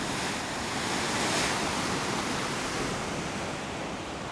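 Sea waves surge at a lava hole on the volcanic coast of Sainte-Philippe, Réunion, a loud continuous wash of broadband roar with no talk.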